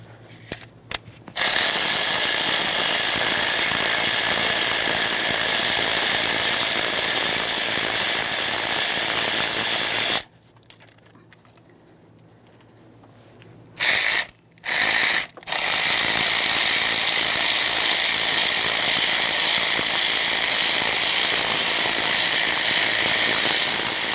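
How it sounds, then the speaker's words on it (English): A ratchet wrench removes valve cover mounting bolts on a 2015-2020 Ford F-150 3.5L V6: loud, rapid continuous clicking runs in long bursts, broken by a quiet pause and two short stops, with no talking. "We can start removing the rearward mounting bolts."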